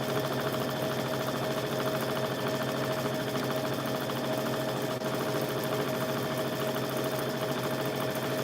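A sewing machine stitches a baby quilt with a continuous, even mechanical whir that holds steady and close throughout, with no talking.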